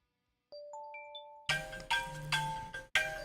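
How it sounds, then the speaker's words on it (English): A mobile phone rings with an incoming spam call. A few soft rising chime notes are followed by four louder, repeated ringtone bursts close by, with no talking. "Who's ringing me?"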